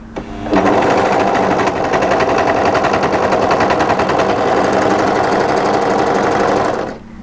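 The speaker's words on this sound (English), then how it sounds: "So when you're ready, just take your time and start sewing." An overlocker runs steadily, sewing an invisible hem along folded fabric: a loud, continuous rapid mechanical chatter that starts abruptly and stops just before the end.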